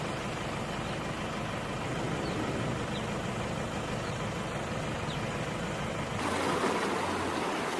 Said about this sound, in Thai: น้ำจากแม่น้ำยม เอ่อล้นเข้าหมู่บ้านนะครับ